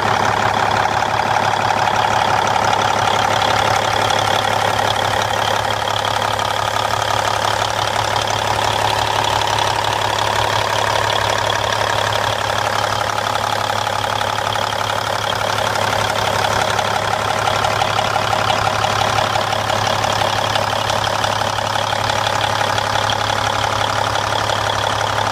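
A 2003 Kenworth T800H dump truck idles loud and close, its diesel rumble steady and unbroken with a faint knocking texture, and no voices.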